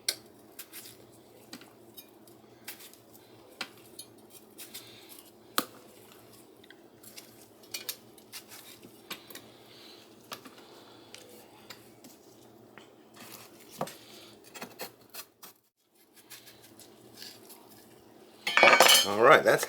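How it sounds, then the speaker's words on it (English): A knife taps and clicks against a cutting board in irregular strokes as it cuts half a cantaloupe into chunks, with soft scraping between cuts, then a brief louder clatter near the end. "we're just going to cut this into little chunks"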